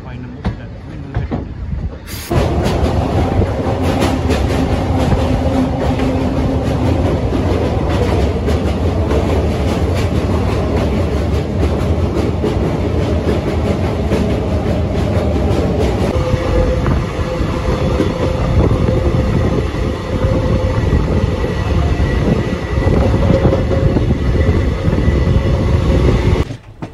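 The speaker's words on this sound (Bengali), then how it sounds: "আমাদের ট্রেনটি নৈহাটি থেকে 4:02 ছেড়ে দিল, আর দীর্ঘ 4 মিনিট পরে ট্রেনটি ছাড়লো।" Interior of the 13141 Teesta Torsa Express (Sealdah to New Jalpaiguri) rolling out of Naihati toward Bandel: a steady, loud, close rumble of coaches with a clattering rhythm that runs without a break for almost the whole stretch.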